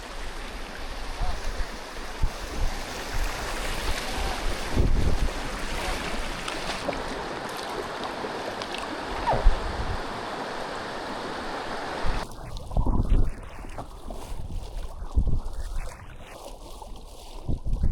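A packraft is paddled through small river rapids, with rushing, churning water running steadily close by and occasional paddle splashes and bumps rising above it.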